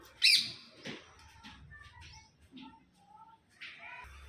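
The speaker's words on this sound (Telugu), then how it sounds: "మన చిలుక చూసారా ఎంత మంచిగా సౌండ్ చేస్తుందో" A parrot gives a few sharp squawks and chirps, including a loud screech near the start, with quiet pauses and faint background noise between calls.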